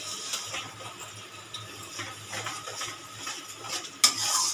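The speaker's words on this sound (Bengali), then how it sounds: "এবার হলুদ দিয়ে দিচ্ছি, সর্ষে পাউডার একটু ভেজে রেখেছি, জল দিয়ে এটাও আমি দিয়ে দিচ্ছি।" A spoon scrapes and stirs in a frying pan as turmeric and mustard paste with water go into a pointed gourd (potol) curry, with a soft sizzle under the stirring and a sharper clatter near the end, no voices.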